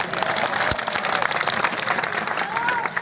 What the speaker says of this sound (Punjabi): ਤਾੜੀਆਂ ਮਾਰ ਕੇ ਰੱਖੋ ਫਿਰ